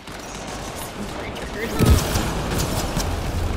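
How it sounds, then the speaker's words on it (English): A Talon pistol in Mass Effect Andromeda multiplayer fires one heavy, shotgun-like blast that stands out from the surrounding game noise, with a voice heard nearby. "the Talon's like a freaking shotgun"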